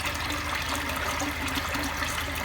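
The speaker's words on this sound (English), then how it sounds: "You just put water in it and then fill it up." Water runs steadily from a kitchen tap into a pot, a constant close rushing and splashing with no pauses.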